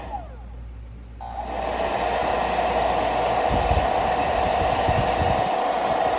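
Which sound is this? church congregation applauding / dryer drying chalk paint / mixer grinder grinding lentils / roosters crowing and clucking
dryer drying chalk paint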